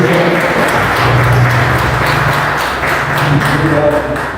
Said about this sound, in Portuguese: Então palmas para Jesus.